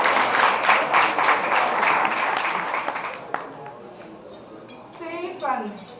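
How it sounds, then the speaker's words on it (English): Audience applause at an annual gala celebration on St. Eustatius, a dense burst of clapping that fades out after about three seconds. Voices and a brief sound follow in the quieter remainder. "Please give them another round of applause."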